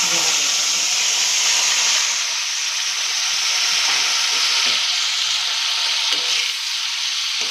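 Turmeric and salt sizzling in hot oil for a cluster bean (gavar) curry, a loud, continuous, close hiss of frying that holds steady throughout, no voices.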